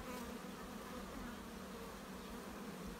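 Honeybees buzz steadily around a hive during sunflower honey extraction, a dense, continuous close drone with no voices.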